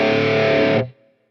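A distorted electric guitar rhythm played through a Quad Cortex with a dry preset rings out as one loud, thick sustained chord, then is cut off sharply, leaving a brief faint tail.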